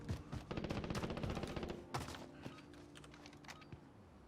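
Suppressed FN SCAR 17 rifle fire in a video game, a quick burst of rapid, sharp cracks followed by a few scattered single shots, heard faintly and close with a low hum underneath.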